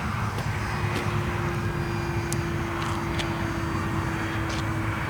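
A radio-controlled EDF jet model airplane flies overhead with a continuous loud, steady whine and rushing roar that holds throughout, with no talking.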